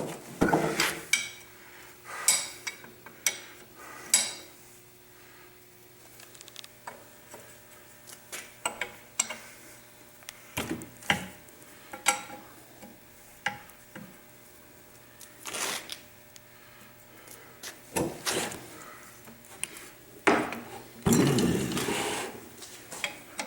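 Intermittent metallic clicks and ratcheting bursts from a wrench removing four cylinder bolts on a 63-year-old Ingersoll Rand 242 air compressor, close up, with pauses between turns.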